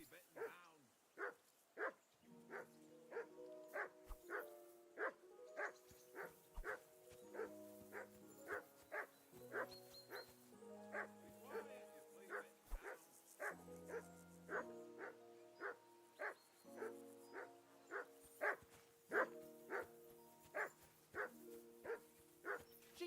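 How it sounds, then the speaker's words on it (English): A dog barks over and over in a video game, steady sharp woofs layered over a droning musical backing, with a few whimpering yips and an odd muffled thud mixed in. "Jesus, Henry, that barking's driving me nuts."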